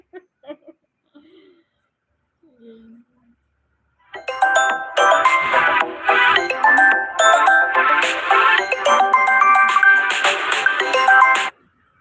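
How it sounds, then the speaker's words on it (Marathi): A phone ringtone plays a repeating bright electronic melody for several seconds, loud and close, after a few faint sounds and brief quiet. "फोन आला उचला नाही उसलात फोन सध्या"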